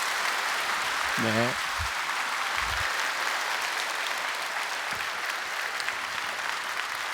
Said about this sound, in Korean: 여러분들 큰 박수로 격려하고 축복해 주시기 바랍니다